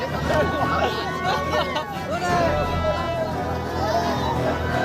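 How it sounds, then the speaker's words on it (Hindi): Villagers thronging a field in Bagdaha village near Bodh Gaya, Bihar, where a small aircraft came down: continuous close hubbub of overlapping chatter and excited voices, steady in level throughout. "लोगों की भीड़, अफरा तफरी का माहौल।"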